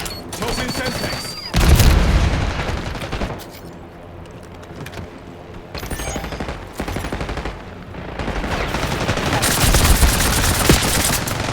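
Explosions and gunfire burst through a Black Ops 6 match, with a Semtex sticky grenade going off amid rapid shots and booms that keep up loudly across the whole stretch.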